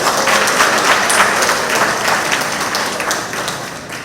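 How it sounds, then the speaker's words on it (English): An audience at a monthly meeting of a Trinidad and Tobago retired persons' association gives a round of applause, dense, loud clapping from many hands that stays steady and fades slightly toward the end. "So give them a round of applause."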